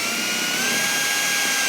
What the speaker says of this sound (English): now we're just gonna take a drill bit right on the center there